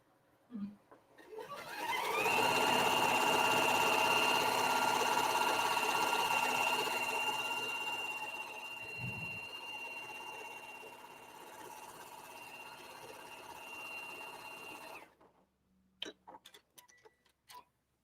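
A sewing machine stitches quilt pieces for a Canadian quilt top, running in one long steady whirring burst for about twelve seconds, then stopping. A few light clicks and handling noises follow.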